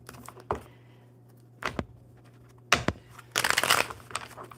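A deck of cards is shuffled in a few short, separate riffles and snaps, ending in a denser flurry of card noise with quiet gaps between.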